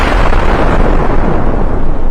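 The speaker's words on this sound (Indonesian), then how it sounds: "Tembakannya itu loh, meledak kayak bom nuklir mini." A huge anime blast from a powerful shot, like a mini nuclear bomb, roars as a loud, sustained rumbling explosion filling the whole moment with dense, continuous low-end energy and no speech.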